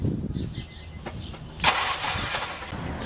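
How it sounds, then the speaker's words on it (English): A 2007 Honda CR-V with a blown head gasket cranks and fires, a sudden loud starter-and-engine burst about midway that settles into a steady running rumble, after quieter mechanical rattling. "I'm going to turn the engine."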